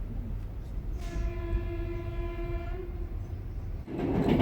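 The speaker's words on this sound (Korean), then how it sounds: "이 기차여행은 트블리시에서 바투미까지 중간에 2개의 다른 역에 정차하며 총 5시간 걸리는데 지루하지 않았어" A passenger train on the Tbilisi to Batumi route in Georgia, heard from inside a carriage. A steady low rumble of the wheels runs throughout, a sustained horn sounds in the middle, and the noise surges at the end.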